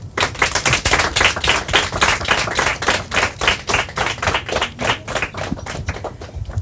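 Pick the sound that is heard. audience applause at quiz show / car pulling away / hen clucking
audience applause at quiz show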